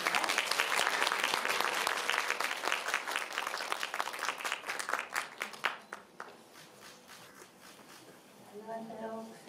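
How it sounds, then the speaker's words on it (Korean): Big applause from an audience at a women filmmakers award ceremony opening, sustained dense clapping that fades after several seconds, followed by a voice beginning to speak. "큰 박수 부탁드립니다."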